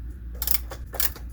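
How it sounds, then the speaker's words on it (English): A quarter-inch bolt being fitted into the swing mount of a large restored reflector telescope: two short metallic clinks and scrapes over a low background hum. "I'm going to put the bolt in over here that holds it in place."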